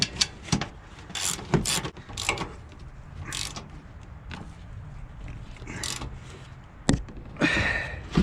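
A small Harbor Freight ratcheting tool tightens the 15 mm strut top nuts while leveling struts go on a 2016 RAM 1500 4x4. Bursts of close ratchet clicking come and go with short pauses and metallic clanks, and no one talks.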